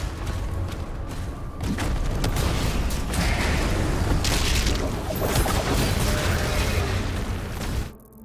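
Rocket explosions in Doom: The Dark Ages, heavy booming blasts rolling one into another amid constant loud combat noise, ending abruptly.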